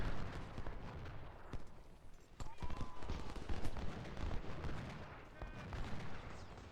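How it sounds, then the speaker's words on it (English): Scattered gunfire crackles across a Civil War battlefield in a video game as skirmishers come under fire, with irregular shots near and far forming a loose, continuous rattle. "Skirmisher's taking some fire."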